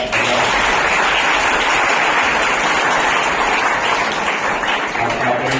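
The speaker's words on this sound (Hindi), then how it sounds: "आप अपने लिए जोरदार तालियां" An award ceremony audience at an orator-of-the-month event applauds in a continuous, even roar of clapping that holds at steady volume from start to finish, with no voices rising above it.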